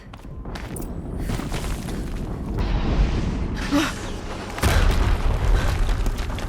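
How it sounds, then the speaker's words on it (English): Explosions from the video game Horizon Zero Dawn boom and rumble over continuous game noise, with a sustained roaring blast followed by a second, sharper burst near the end. "Another explosion."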